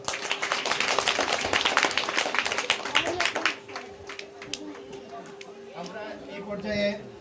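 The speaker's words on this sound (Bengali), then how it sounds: "একটা করতালি চাই আমরা।" Audience applause at a Bengali spring colour festival event, a dense burst of clapping for about three seconds that thins into scattered claps, with voices talking underneath.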